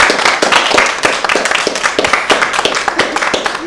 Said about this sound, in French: je vous invite à applaudir encore